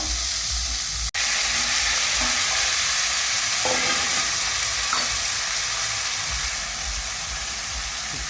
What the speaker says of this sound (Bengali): তেলের মধ্যে অল্প কিছু তেল দিয়ে কালো জিরে আর কাঁচা লঙ্কা ফোড়ন দিয়েছি